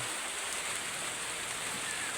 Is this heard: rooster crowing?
no